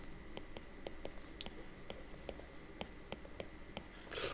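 Handwriting during a classroom lecture on perceptrons and logistic regression, with soft, regular pen or chalk taps and strokes over a quiet room hum and a brief rustle at the end.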